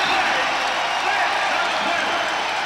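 Steady, dense crowd roar filling an arena football stadium, loud and continuous with no breaks, as the home crowd cheers.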